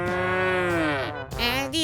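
A cow in a Minecraft animation lets out one long, loud, close moo that slides in pitch, followed by a shorter second call.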